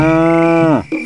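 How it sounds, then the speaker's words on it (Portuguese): A cow giving one loud, long, close moo that cuts off abruptly, a sound effect in the Coelho Sabido children's hide-and-seek animal game. "Vaca."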